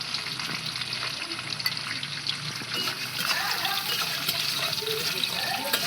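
Khichuri ingredients sizzling in a pan over low heat, a steady frying hiss with occasional stirring clinks and splashy bursts, continuing from start to finish.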